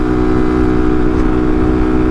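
A Vader 125 motorcycle, a Grom-style clone, runs near the top of fourth gear at high RPM with a steady, buzzing, high-revving engine drone, loud and close throughout, no talking.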